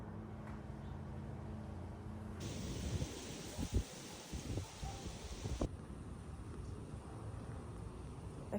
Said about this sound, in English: It's windy outside and we have trees around us